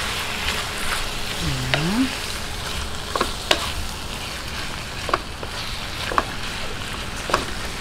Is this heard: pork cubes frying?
yes